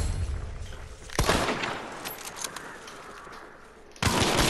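Fully automatic gunfire in a video game: a sudden loud, sharp burst of shots, then a fading clattering tail, then a second abrupt blast near the end, heard close with no talk.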